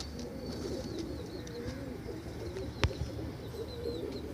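Pigeons coo softly in a crowded Multan pigeon market where black pigeons, a female and two males, are shown, with low murmuring cooing throughout, faint chirps and one sharp thump amid steady background bustle.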